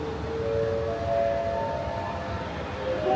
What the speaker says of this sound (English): another train is rolling out of the station on platform 6